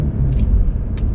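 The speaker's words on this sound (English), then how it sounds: "it has like a really nice deep V8 burble" Deep low burble of a BMW 650i V8 engine, a steady rumbling idle-like drone from inside the car, with a couple of faint higher clicks or rustles over it.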